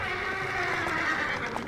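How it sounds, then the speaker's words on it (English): The Archmage hero dies in Warcraft III, signalled by a short, clear horse whinny heard alone, lasting under two seconds. "I think Archmage death sound is so happy."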